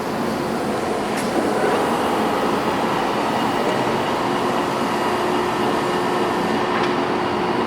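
Large Ticino sliding bed gap lathe running as its threading feed is engaged: a steady mechanical drone with two faint clicks several seconds apart, and no talk.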